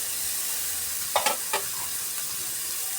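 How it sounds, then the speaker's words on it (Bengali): Green chillies hit hot oil with ginger and garlic, setting off a bright burst of sizzling and stirring that settles back into a steady fry. "আদা রসুনের একটু কাঁচা গন্ধ চলে গেলে এর মধ্যে কাঁচা লঙ্কা দিয়ে দিলাম"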